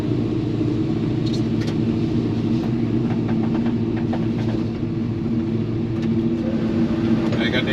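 A Chevy C-10 pickup truck rumbles steadily from inside the cab as it rolls along. The low engine and road drone continue throughout, with faint ticks and rattles.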